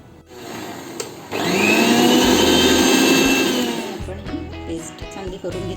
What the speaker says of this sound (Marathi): आता हे मिक्सरच्या भांड्यात घालून आपण याला